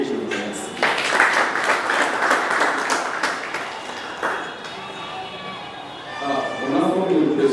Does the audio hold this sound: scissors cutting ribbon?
no